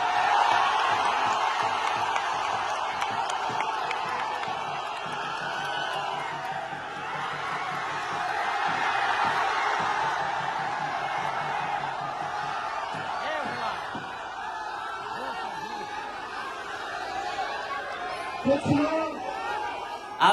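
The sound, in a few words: crowd at Tejashwi's Jan Vishwas Yatra rally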